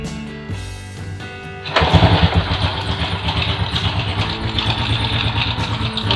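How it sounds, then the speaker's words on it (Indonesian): A 1996 Honda Astrea Grand motorcycle is kick-started after a short mechanical stroke, then catches and settles into a close, steady, pulsing idle. "Coba kita pakai starter kaki."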